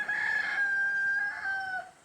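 Rooster crowing on a poultry farm, one long, clear, close cock-a-doodle-doo held for about two seconds with no other sounds.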